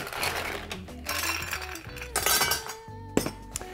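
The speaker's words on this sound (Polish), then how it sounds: "No cóż, schładzam kieliszek koktajlowy." A cocktail glass being chilled for a rum and Aperol drink, ice and glass giving bright clinks and rattles, several sharp chinks near the microphone with no talking.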